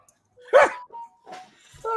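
Small dog giving a sharp bark, then a few shorter yips and whimpers, close and isolated within a quiet indoor space.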